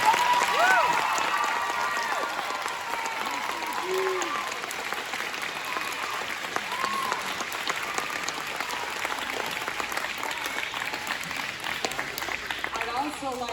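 A concert audience at a school veterans concert gives a long, sustained round of applause, dense and fairly close, with a few cheers and voices mixed into the steady clapping.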